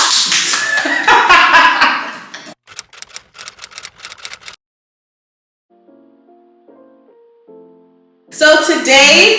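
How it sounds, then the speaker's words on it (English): A few people clap briefly and unevenly near the microphone at the start of a casual indoor chat, followed by sparse taps, a pause, a short electronic tone sequence, and then another burst of close clapping. "Everybody clap!"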